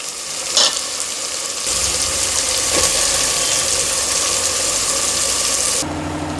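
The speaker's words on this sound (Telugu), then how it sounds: "ఇప్పుడైతే పేస్ట్ అంతా వేసేసి కలిపేస్తున్నాను" Ground paste sizzles steadily in a pan while it is stirred for a black-eyed pea curry, a loud, continuous frying hiss with a sharp scrape early on and a sudden drop near the end.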